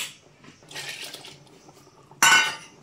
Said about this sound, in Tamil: அந்த மசாலா இருந்த பாத்திரத்தை வாஷ் பண்ணி கொஞ்சமாட்டு தண்ணி சேர்த்துக்கிறேன்